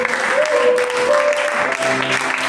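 A congregation at a French-language prayer vigil breaks into sustained applause, a dense close wash of clapping under held tones of music, lasting the whole stretch.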